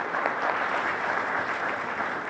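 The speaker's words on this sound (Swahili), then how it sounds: "Na nitaomba tupige makofi zaidi" An audience at the opening of a five-star hotel in Arusha breaks into steady, dense applause that fills the whole moment without letting up.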